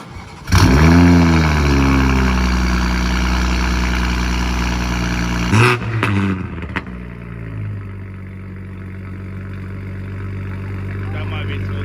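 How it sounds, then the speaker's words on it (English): A 2021 Toyota GR Supra with a Sila catless downpipe starting up: a sharp crank bursts into a loud, rising rev that settles into a steady rumbling idle, then dips after a second blip to a lower idle, close and dominant. "that's the first startup of the Supra with the Catless downpipe"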